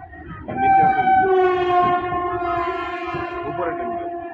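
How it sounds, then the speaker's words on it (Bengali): Train horn sounding loud and sustained with a strong harmonic tone, rising in at half a second and holding for several seconds, while trains run on both upper and lower tracks with a steady rumble underneath. "উপরে ট্রেন যাচ্ছে, তিনটে ট্রেন একসাথে।"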